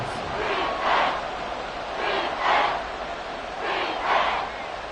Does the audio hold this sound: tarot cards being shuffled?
no